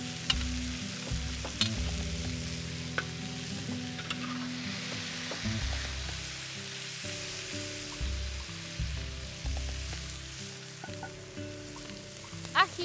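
Onions and vegetables hit a hot disc pan for chicken al disco and sizzle loudly, with clanks and scrapes of a utensil stirring over the steady crackle.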